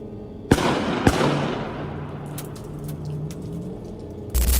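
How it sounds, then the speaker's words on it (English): Two sharp, loud gunshots ring out close by near a camping van in quiet woods, each followed by a long fading echo, with a few faint knocks afterward. "Out of nowhere, gunshots rang through the area, instantly shattering the quiet."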